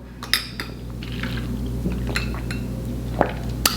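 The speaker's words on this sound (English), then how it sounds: "Let me go ahead and get some water first" A glass of water being fetched, with liquid pouring and a few sharp clinks of glass and dishes against steady room hum, moderately close, no talking.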